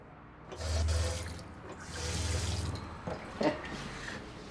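A repaired sink faucet runs in two short bursts of gushing water, close and clear, followed by a few faint splashes and clinks, with no talk.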